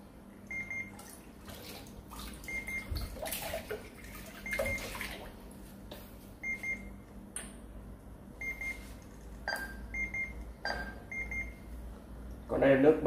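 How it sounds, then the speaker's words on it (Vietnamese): A Trim Ion Hyper water ionizer gives short repeated warning beeps in pairs over running water, with a voice talking throughout. "Nước không uống được nên máy sẽ cảnh báo tít tít."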